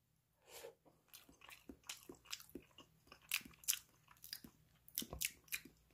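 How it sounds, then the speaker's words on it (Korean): Striped eel catfish meat being bitten and chewed up close, with wet, crunchy bites from the skin in an uneven rhythm over about six seconds, with no talking. "쏠종개 살 한번 먹어볼게요."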